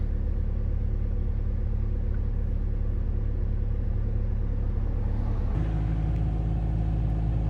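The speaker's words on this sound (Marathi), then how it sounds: "हे बघा पुढून गाडी येते म्हणून आपण इथेच थांबायचं." A car on a road gives a steady, low engine rumble throughout, with the tone shifting and deepening near the end as it draws closer; no voices.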